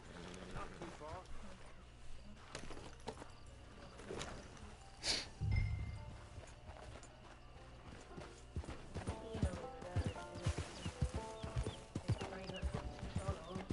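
Horse hooves clip-clop steadily in the Red Dead Redemption 2 Online video game, a continuous trotting rhythm under game music, ambient effects and a voice speaking.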